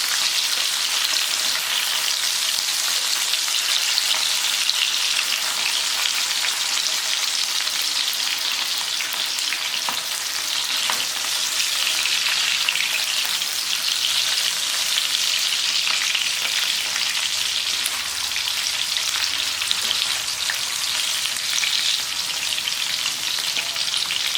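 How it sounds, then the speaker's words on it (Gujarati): Raw banana pieces fry in a covered pan, a continuous even hiss and sizzle sustained throughout with faint ticks, no talking. "આવી રીતે ચાર મિનિટ સુધી કેળાને આમ જ ફ્રાય થવા દેવાના છે"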